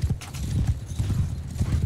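Horse hooves clip-clop in the video game Mount & Blade 2: Bannerlord, with a steady, rhythmic run of close, loud hoofbeats continuing throughout with no pause.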